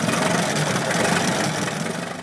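Engine of a 1908 Mors Grand Prix car turning over and catching, settling into a loud, steady, close mechanical running with a rough, pulsing texture throughout, slowly easing off toward the end.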